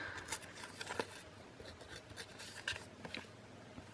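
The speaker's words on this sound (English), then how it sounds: "I'm just rubbing my scissors along the edge." Scissors rubbed along the edges of lightweight printed cardstock to distress them, giving soft, intermittent scratchy scraping strokes, close and faint, with no talking.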